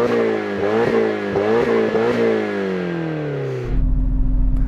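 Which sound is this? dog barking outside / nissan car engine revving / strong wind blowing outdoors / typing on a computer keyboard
nissan car engine revving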